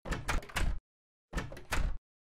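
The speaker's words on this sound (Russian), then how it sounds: "Капец, дверями ходят, брякают." Doors banging inside a game level, two clusters of three quick heavy knocks separated by a short silence, loud and close.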